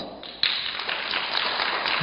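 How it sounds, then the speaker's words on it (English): Audience at a youth Buddha's Birthday celebration at a monastery in Canada breaks into applause after a sharp onset, a fairly quiet, even patter of many hands continuing throughout. "If you understood, give me a round of applause."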